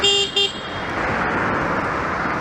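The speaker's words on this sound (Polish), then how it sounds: "Taki klakson mam i używam go w takich sytuacjach." A car horn sounds in two short honks, loud and close, from inside the vehicle of a Wolt delivery driver in city traffic in Wrocław, followed by steady engine and road noise.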